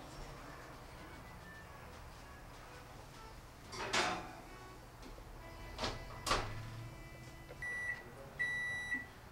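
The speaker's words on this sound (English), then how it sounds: "the oven's beeping, and Sherry's going to open the oven up, and" Two short electronic beeps sound near the end, faint against a quiet room, after a few muffled clunks of something being handled.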